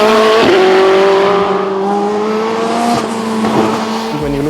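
BMW M Hybrid race car (M Hybrid V8) engine revving hard and climbing through gears with a clear downshift near the end, loud and close throughout with sharp harmonic engine tones.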